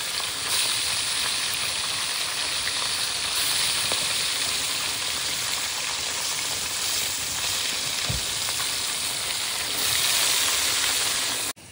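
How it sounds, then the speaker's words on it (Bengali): Fish frying in oil in a pan, a steady, close hiss and crackle that runs without a break for about twelve seconds, with a brief low knock partway through and no voices. "মাছগুলো আগে ভালো করে ভেজে নেবো।"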